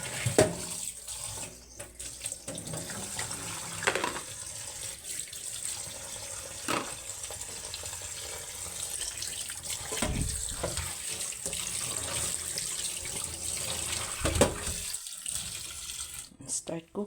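Tap water runs steadily into a sink as squid is rinsed under it, with splashing and handling noises shifting as the pieces are moved, and a voice is faintly heard at moments.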